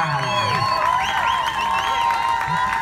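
A beach crowd at an altinha footvolley-style event at Praia da Pipa, Natal, claps and cheers for a team, a dense wash of applause and whoops throughout with an announcer's voice amplified over it.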